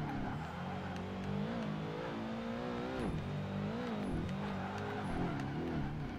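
Porsche 911 GT1 race car engine droning steadily in the racing video game Project Gotham Racing 2, its pitch rising and dipping with gear changes and revs, loud and continuous throughout.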